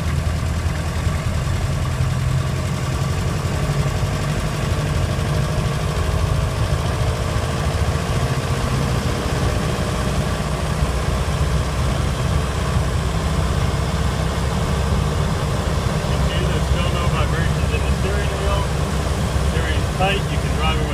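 A 1928 Ford Model A Tudor Sedan engine runs steadily while driving and speeding up, a continuous low drone with a faint whine throughout and no break.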